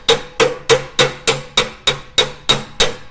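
A hammer striking sheet metal held on a dolly for smoothing and planishing: ten sharp, evenly spaced metallic blows with a ringing tone, close and loud, with no talking.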